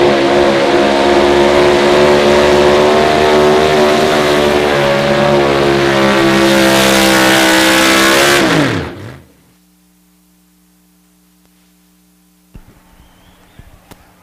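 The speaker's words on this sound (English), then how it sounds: "Big block Mopar under the hood calls it the Power Wagon." A Dodge Power Wagon pickup with a big block Mopar engine roars at full throttle during a Pro Stock 4x4 truck pull in Gardner, Kansas, loud and sustained before the revs wind down and cut off, leaving a quiet hum.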